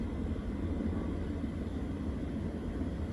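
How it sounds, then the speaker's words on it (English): Distant airplanes take off on a stormy, windy day, heard as a steady broadband jet roar that holds level throughout without any talking. "Planes are taking off again."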